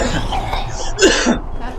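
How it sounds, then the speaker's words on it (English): Two people cough at once, a short burst of close, loud coughs with a throat-clearing quality, in a home setting during a game stream. "Both coughing at the same time."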